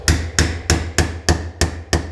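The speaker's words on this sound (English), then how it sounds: "So tap with a hammer. Make sure that you're using either a rubber hammer or a Delrin hammer" Rubber or Delrin hammer tapping a Volquartsen trigger part into a Ruger MKIII pistol: seven evenly spaced, sharp, close taps at a steady rhythm, with no talking.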